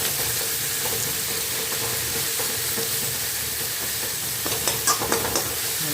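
Sliced onions sauté in a hot pan with a steady broad sizzle and hiss, stirred now and then with a few soft scraping knocks near the end; close and fairly loud, no voices.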